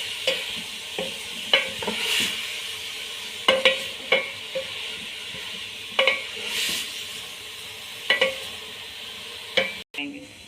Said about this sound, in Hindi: गाजरों को भून लें अच्छी तरह।